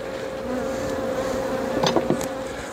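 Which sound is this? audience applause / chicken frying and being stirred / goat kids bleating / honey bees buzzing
honey bees buzzing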